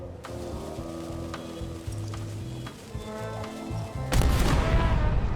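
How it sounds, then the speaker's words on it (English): Near the end, a single loud ship's cannon blast in Return to Monkey Island bursts out sharply, cutting through quieter background music. "Ready for cannon firing."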